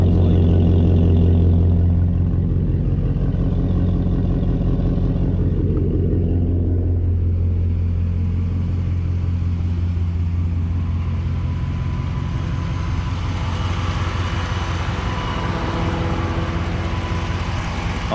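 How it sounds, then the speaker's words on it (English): The V8 exhaust of a 2016 RAM 1500 Big Horn 5.7 4x4 pickup idles with a deep rumble, then rises into a harsher, louder drone partway through; close and continuous. "Here's what that exhaust sounds like."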